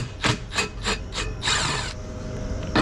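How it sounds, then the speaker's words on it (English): Phillips screws being backed out of a reach-in bottle cooler's condenser fan motor, with several short, close ratcheting scrapes in a steady rhythm, then a longer grinding rub, loud and without any talk. "Let's start by taking off these 4 Phillips screws and taking it out"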